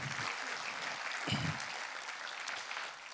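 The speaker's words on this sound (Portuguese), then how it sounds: "Pode dar uma salva de palmas a Jesus aí" An audience at a church conference applauds, a steady wash of moderate clapping from many hands that holds evenly for a few seconds before tapering slightly.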